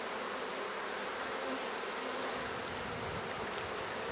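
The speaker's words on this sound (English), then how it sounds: "There are many more bees in here than there were a week ago." A busy honeybee colony in an open hive during a beekeeping inspection gives off a steady, dense buzzing that stays even and moderately quiet throughout, with no voices.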